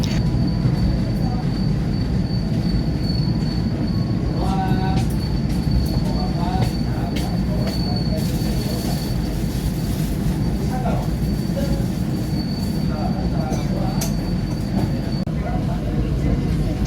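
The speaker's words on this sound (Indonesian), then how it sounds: "kereta api Pangrango melanjutkan perjalanan dari stasiun Cisaat menuju stasiun Karangtengah" The Pangrango passenger train in Sukabumi, Indonesia, departing Cisaat station toward Karangtengah, rumbles steadily along the rails, with a constant low roar, faint wheel squeal and brief clanks throughout.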